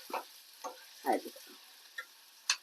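Onions frying in a pan for a dried prawn and cucumber curry, a faint low sizzle broken by a few sharp stirring scrapes, quiet and close with no talking.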